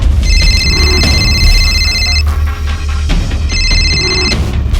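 A telephone rings loudly in two long electronic bursts separated by a short gap, each a bright, trilling ring over a low background hum, with no one speaking.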